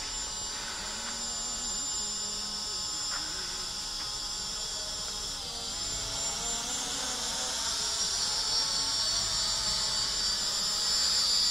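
A Hubsan H216A drone flying back toward its take-off point gives a steady, insect-like high whine that persists without pause and grows slightly louder toward the end.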